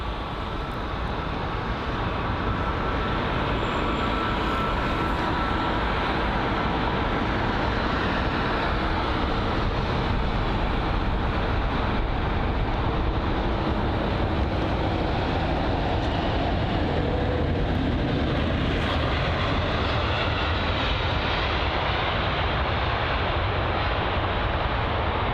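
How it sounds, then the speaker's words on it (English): A British Airways A350-1000 airliner arriving at London Heathrow, a loud, continuous low engine roar that holds steady for the whole stretch with no talking over it. "So next up is going to be the British Airways A350-1000 arriving from Tel Aviv."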